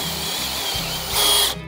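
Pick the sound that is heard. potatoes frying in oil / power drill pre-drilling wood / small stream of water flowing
power drill pre-drilling wood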